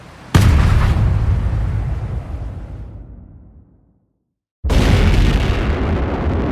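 Ship's cannons fire during a naval engagement at a blockade: a loud booming blast that rolls away over several seconds into silence, then a second heavy shot erupts and sustains.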